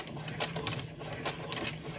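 A sewing machine stitches fabric for a fall table runner in short bursts, with a pause before a back stitch, giving a rapid mechanical clatter close by with no talking.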